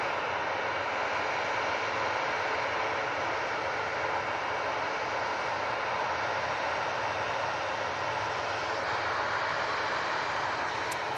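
A TUI airliner bound for Funchal idles on the runway at Manchester Airport, its engines giving a faint, steady distant hum that stays even throughout, with no voices.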